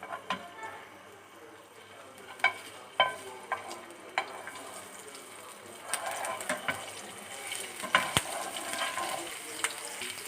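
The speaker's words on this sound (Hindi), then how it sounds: "अब हम इसके अंदर डाल लेते हैं थोड़ा सा अदरक लहसुन का पेस्ट डाल लेते हैं।" Ginger garlic paste frying in hot oil as it is stirred in a pan, with a steady soft sizzle broken by sharp clicks and scrapes of the spoon, and faint talk in the background.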